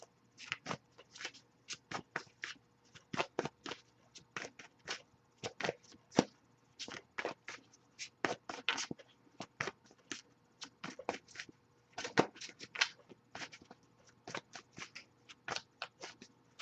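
A tarot deck is shuffled by hand in quick, crisp bursts of riffling and card slaps, close and fairly quiet, repeating irregularly for about seventeen seconds with no speech.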